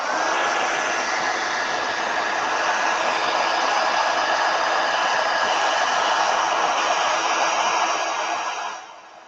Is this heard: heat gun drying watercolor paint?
yes